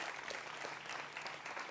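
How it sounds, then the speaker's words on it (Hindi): Studio audience applause on a Hindi television debate show, a dense, even patter of many hands clapping close by throughout. "जोरदार तालियों के साथ अभिनंदन है"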